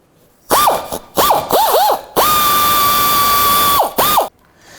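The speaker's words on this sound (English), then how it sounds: "I'm going to snug both of these bolts right down." A ratchet tightens 10mm bolts on a 2007-17 Jeep Wrangler front bumper, with a few quick clicking strokes followed by one long, continuous run of fast ratcheting, loud and close.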